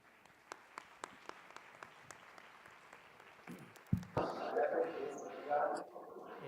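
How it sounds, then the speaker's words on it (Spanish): A few scattered, isolated claps grow into a brief burst of audience applause mixed with voices. "Démosle un fuerte aplauso, por favor"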